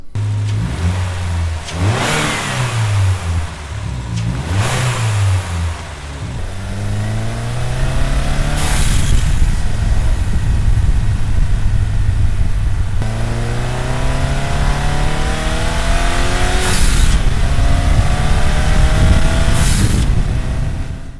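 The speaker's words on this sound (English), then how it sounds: "it definitely gives you that whoosh sound of a blow-off valve" A 2022 Subaru WRX engine revs repeatedly, climbing and dropping in pitch, with sharp breathy whooshes between throttle bursts as the turbo vents through a Boomba Racing blow-off valve adapter.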